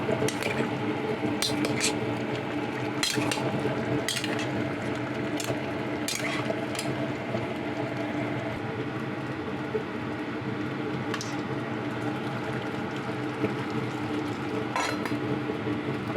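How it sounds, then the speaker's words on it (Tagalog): A cooking pot of beef and lotus roots being stirred, with repeated metallic clinks and scrapes of a utensil against the pot over a steady, loud bubbling simmer throughout. "haluin natin para hindi didikit"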